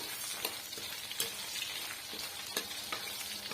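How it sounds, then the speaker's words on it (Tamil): Leaves frying in coconut oil in a pan over a low flame, giving a steady close sizzle with small crackling pops and occasional stirring scrapes, no voices. "பாருங்க இப்ப நம்ம பியூரான தேங்காய் எண்ணெய் சேர்த்து இருக்கிறதுனால நல்லாவே பொங்கி வருது பாருங்க"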